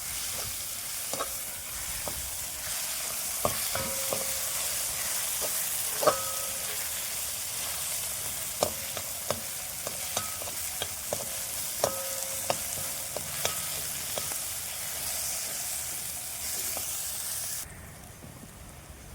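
Onion, tomato and green chilli sautéing in a pan for a Kerala-style spicy chicken perattu, a continuous sizzle with repeated sharp spatula scrapes and taps, close and fairly loud, then the sizzle drops near the end.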